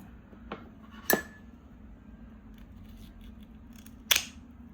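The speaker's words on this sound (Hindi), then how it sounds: "कैंची का इस्तेमाल करेंगे।" Kitchen scissors snip through a cooked crab leg in two sharp, crisp clicks a few seconds apart, close and clear over a quiet background.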